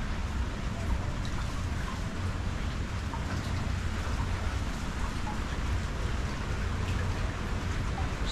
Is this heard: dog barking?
no